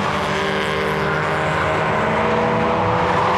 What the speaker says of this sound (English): Malcolm Addison was leading, but this three-way Mazda battle got itself three wide, coming down towards Brooklands, with Brett Walter going back on the inside